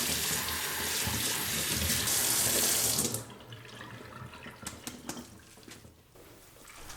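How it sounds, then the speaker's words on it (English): Tap water runs steadily into a kitchen sink for a few seconds, a loud close rush that cuts off abruptly, followed by faint drips and small handling sounds. "rinse well under running water"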